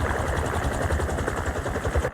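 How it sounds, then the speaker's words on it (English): Helicopter blades in Marvel's Spider-Man 2 beat in a fast, steady low-pitched pulse, loud and close, with a dense rushing wash over the rhythmic thumping. "a helicopter's blades"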